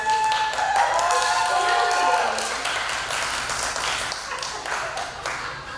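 Applause and cheering fill the room for a contestant at a 2017 pin-up contest, a dense, steady wash of clapping that starts loud and slowly fades. A few voices and faint tones ride over it.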